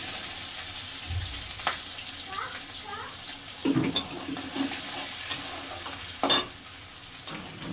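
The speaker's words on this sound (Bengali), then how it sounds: "আচারের তেল দিলাম দিলাম রসুন কাটা করে রেখেছিলাম দিয়ে দিলাম" Chopped garlic tossed into hot pickle oil and stirred, giving a soft sizzle with scraping and clattering stirring sounds close by, some brief louder clanks, while a voice talks faintly in the background.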